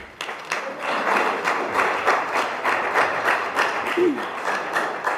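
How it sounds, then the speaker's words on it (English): A crowd applauding steadily at a board of education meeting, dense clapping that holds at an even level throughout. "Please, no clapping."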